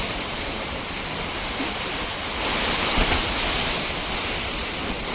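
Heavy monsoon rain driven by strong wind in Odisha, a dense steady roar of rushing water and gusts that swells slightly midway, with no voices.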